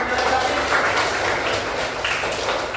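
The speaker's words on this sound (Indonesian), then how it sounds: "Tepuk tangannya Pak." Scattered classroom clapping from pupils at an Islamic lesson, a steady hand-clap wash at moderate level for a few seconds, with some voices mixed in.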